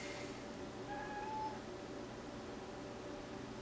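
A cat gives a single short, faint meow that rises briefly, set against a steady low background hum with no talking.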